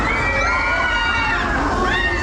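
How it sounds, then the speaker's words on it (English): A dense, loud crowd at an amusement park, with children shouting and cheering over a steady wash of chatter and splashing water, continuous throughout. "Crowds returning to amusement parks, the movies, even the airport"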